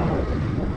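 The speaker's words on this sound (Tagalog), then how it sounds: "malakas ang hangin" Strong wind buffeting the microphone outdoors in Candelaria, Quezon, Philippines, a steady low roaring rumble with no voices.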